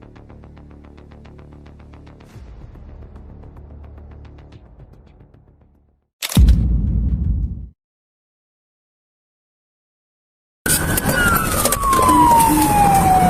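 Police car siren during a high-speed chase, a rising and falling wail that enters loud after a muffled rumble, a sharp burst and a gap of silence.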